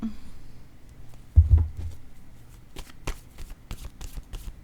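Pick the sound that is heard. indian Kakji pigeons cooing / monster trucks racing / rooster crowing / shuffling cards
shuffling cards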